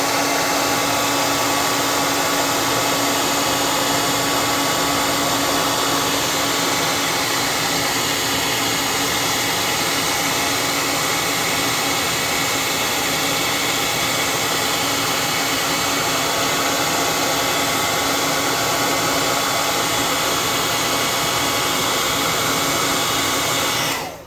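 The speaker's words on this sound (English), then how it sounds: "We're going to air dry it with the hot air gun." A hot air gun blows steadily to dry paint on a miniature figure, giving a loud, constant whooshing roar that holds without a break from start to finish.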